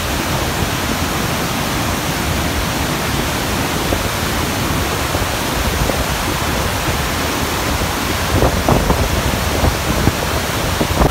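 Torrents of water pour through the fifteen open gates of Bargi Dam in a loud, unbroken rushing roar like a waterfall, dense and steady throughout, with a few faint knocks near the end.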